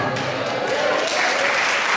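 A church congregation applauds in a dense, continuous roar of clapping that stays loud and even throughout.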